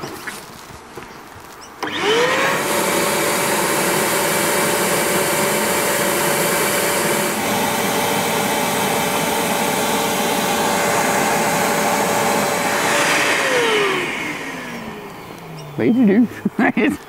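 A bee vacuum fitted with a narrowed nozzle, used to pull bees from a tree stump, roars loud and steady for about twelve seconds before winding down, followed by a few brief knocks.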